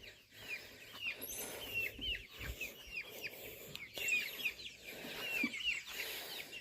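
Several chickens in a coop, among growing meat birds and layers, cluck and murmur in overlapping bursts, some calls sharper and nearer than others, against a soft farmyard background.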